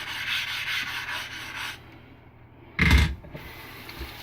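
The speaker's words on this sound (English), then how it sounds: "I'm going to break my corners aggressively on this water stone." A straight razor's corners ground aggressively on a very coarse water lapping stone give a steady gritty rasp that stops partway, then one loud short scrape near the end.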